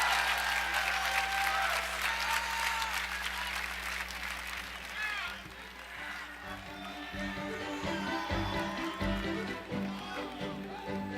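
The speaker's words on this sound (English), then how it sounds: "Can we give Will and Anna another round of applause for all the adversity that they've gone through and they've overcome?" Audience applause at a live awards show, a loud sustained round of clapping that fades into scattered claps and crowd noise, with a voice speaking briefly over it.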